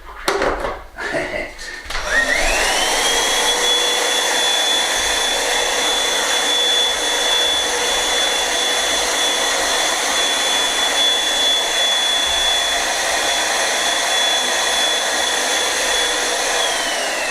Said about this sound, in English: Got our little hoover that we charge in the cupboard.